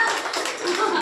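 Audience clapping at a lecture, a dense patter of many hands that stays steady for about a second, filling the room at close range with no voice over it.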